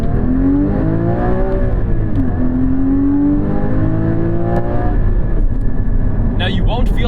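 Porsche 981 Cayman GT4 engine pulling hard under acceleration, a steady loud rising drone with sweeping harmonics heard from inside the cabin, continuous over about seven seconds, with a brief higher whine near the end.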